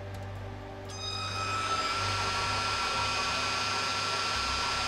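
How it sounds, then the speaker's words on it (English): A CNC milling machine spindle starts up and holds a steady whine at about 1500 RPM, rising in pitch and loudness during the first second and then running evenly and fairly loud with no talk. "M3 to start spindle."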